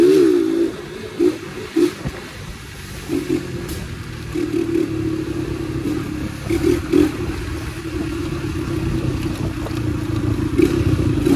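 A lowered Yamaha YBR motorcycle rides through rainy İzmir streets, its engine holding a steady droning hum with small throttle swells under continuous hiss from the wet road and wind.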